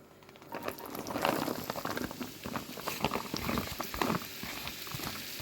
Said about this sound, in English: we're going to add these into the pan with the oil